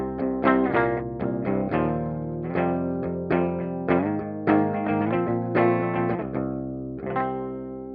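Electric guitar played through a Mooer Prime M2 with two stacked drive pedals, tape delay and reverb, giving saturated, sustained chords and picked notes with rich harmonics, ringing out loud and continuous with a soft echo tail.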